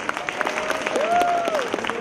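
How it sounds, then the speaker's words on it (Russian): A pageant audience applauds after the Mrs. category is announced, giving a short burst of dense clapping with a voice rising over it. "Аплодисменты!"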